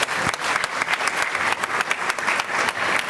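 Steady, dense applause from an audience at a school district recognition event, sustained and fairly close with no break for its whole length.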